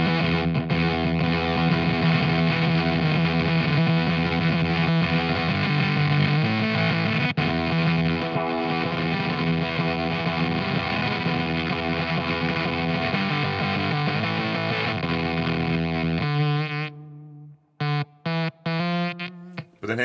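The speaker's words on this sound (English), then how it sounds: "Let's go to that really gated sound just to start off with." Electric guitar played through a Valco KGB Fuzz pedal set to a heavily gated, synth-like fuzz tone, sustained and loud for most of the passage before choppy, abruptly cut bursts near the end.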